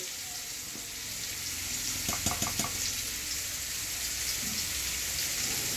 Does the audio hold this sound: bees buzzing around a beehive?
no